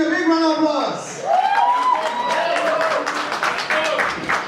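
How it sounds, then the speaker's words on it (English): Applause rises from the crowd at the Vikrant Rona pre-release event with two film stars, as a voice, which may be singing or chanting, gives way to dense, loud clapping mixed with cheering and shouts. "A big round of applause."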